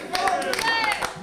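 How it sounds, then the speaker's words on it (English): Brief burst of audience applause for performers at a pub jam night at the Royal Oak in Cardiff, mixed with crowd noise and a voice speaking over it, lasting only about a second. "round of applause for Beetle John and Carol there"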